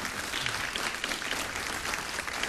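A studio audience on a Greek evening show claps in a steady, full burst of applause that fills the room throughout.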